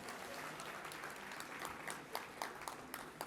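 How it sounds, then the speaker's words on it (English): Applause from the audience for sponsors at a chamber of commerce annual dinner, fairly faint, many hands blending into a wash with a few distinct nearby claps standing out toward the end. "Feel free to clap, guys."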